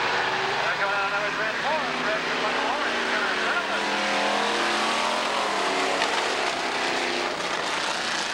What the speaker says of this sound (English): we got a heat race out there